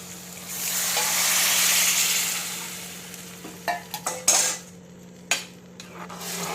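Tamarind juice is poured into an egg curry in a pan and stirred, a broad liquid sizzle and pour swelling then fading, followed by a few sharp utensil scrapes and clinks against the pan.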